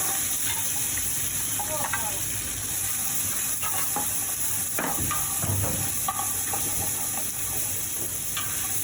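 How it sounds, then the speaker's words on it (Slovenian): Chopped onion sizzles in hot oil and butter in a pan, a steady loud crackling hiss with occasional stirring clatter and brief bursts of spattering, continuous throughout. "In dodamo že nasesekljano čebulo."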